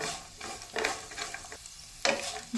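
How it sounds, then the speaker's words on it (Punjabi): Spices dry-roasting in a pan for a no-onion eggplant and tomato curry, with repeated scraping stirs over a steady soft sizzle, close and moderately loud, no talk. "ਸਰਾਈ ਨੂੰ ਕਰਕੇ ਆਪਾਂ ਭੁੰਨ ਲੈਣਾ ਤੇ ਇਹਨੂੰ ਮਸਾਲੇ ਨੂੰ ਠੰਡਾ ਕਰ ਲੈਣਾ"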